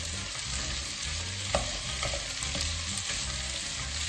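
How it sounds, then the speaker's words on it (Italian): Diced potatoes and pumpkin sauté in a pan for a pumpkin and potato risotto, giving a continuous soft sizzle with occasional spoon scrapes and stirring clicks, close and without talk. "Alle patate unisco la zucca e lascio insaporire anch'essa."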